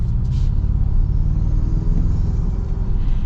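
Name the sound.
pickup truck engine intake rumble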